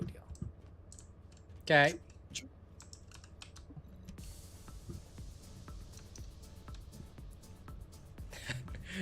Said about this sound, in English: After I finish typing this